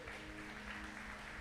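A church congregation applauds during a worship service, a steady wash of clapping from many hands lasting just over a second, with no break or lull.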